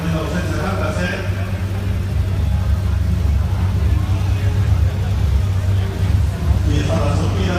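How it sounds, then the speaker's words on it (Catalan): A 1977 Porsche rally car at the Rally Catalunya Històric pulls away from the starting podium, its engine a steady low rumble that swells near the end, under continuous commentary and crowd chatter. "Últims segons per la sortida d'aquest podi de Pau Comacros i Juan Ignacio Fernández en aquest Porsche de l'any 1977."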